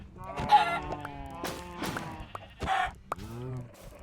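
A chicken in Minecraft gives several short clucks and squawks, moderately close over a quiet game background, with no talking heard.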